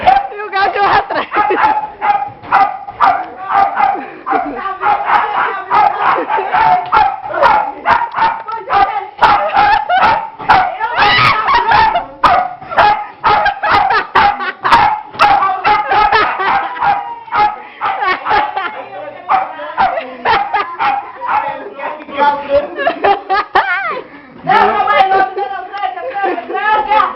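A dog barks and yips rapidly and almost nonstop during a barbecue gathering, with sharp, closely spaced barks and some howl-like whimpers, loud and near, mixed with people talking and shouting.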